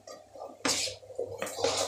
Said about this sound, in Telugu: ఇప్పుడు ఈ కూరగాయలన్నీ వేసేద్దాం